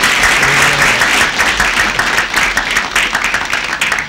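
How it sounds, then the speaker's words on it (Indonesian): Studio audience applause on an Indonesian comedy program, a dense, steady wash of many hands clapping that stays loud throughout, with no speech over it. "Tepuk tangan untuk ini nih suratnya."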